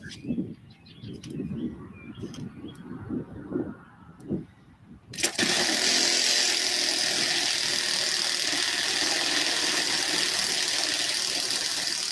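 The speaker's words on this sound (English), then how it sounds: "Seems like all of his engines start right up." An RC model airplane with a Sato 82 engine: after a few seconds of light bird chirps, the engine abruptly starts and runs at a loud, steady, continuous drone close by.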